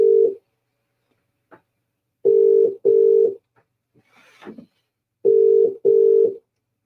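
A UK-style telephone rings on a call to a reporter at a half-time football match, giving four loud paired buzzing bursts in two double-ring cadences, with a short faint rustle in the gap between them.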